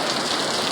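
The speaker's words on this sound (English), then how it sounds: "It's raining very hard." Heavy rain pours down steadily in Las Vegas, a dense, continuous hiss of drops hitting surfaces close by, with no pauses or voices.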